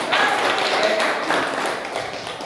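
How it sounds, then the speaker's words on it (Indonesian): Workshop group of teachers and participants applauding together indoors, a steady burst of many hands clapping at close range, with a few voices calling out over it. "Tepuk tangan bagi kita hari ini"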